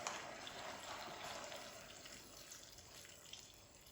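Two cups of water pour into a cooking pot for rice, already salted, making a soft, steady gushing splash that fades slightly toward the end; fairly faint and without talk.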